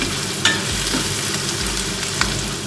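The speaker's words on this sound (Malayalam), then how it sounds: "ഒന്ന് വഴന്ന് കിട്ടട്ടെ." Onions with chopped green chilli sautéing in hot oil for fish rice, a continuous close sizzle with a few soft spoon scrapes and stirs.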